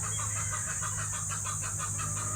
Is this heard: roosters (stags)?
yes